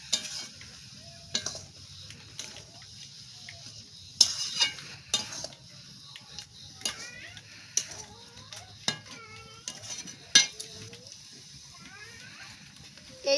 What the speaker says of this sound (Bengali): চিনিটা দিয়ে নাড়তে থাকবো